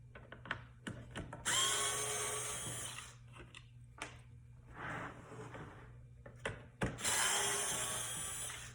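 A power drill backs Phillips head screws out of a 2007–2012 Nissan Altima armrest console, with two loud whirring bursts separated by quieter clicks, taps and handling noises.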